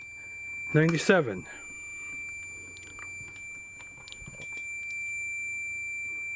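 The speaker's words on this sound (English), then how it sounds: "We're at 97 ohms, reading 83 on here, still beeping." A multimeter in continuity mode gives a steady, unbroken high beep while testing an automotive fuse's resistance, sounding alone for most of the stretch after a voice briefly calls out a number.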